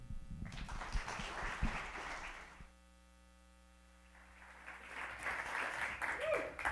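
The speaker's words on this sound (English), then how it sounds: "give a big hand clap to Mr. Todd Smith" An audience at a TEDx event applauds as the final speaker is introduced; a dense burst of clapping fades to near silence with only mains hum, then a second round of clapping swells back up.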